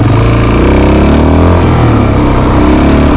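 A Suzuki DRZ400 dual sport motorcycle engine runs loud and close during an off-road ride, holding a steady rumbling drone with slight shifts in pitch and no talk over it.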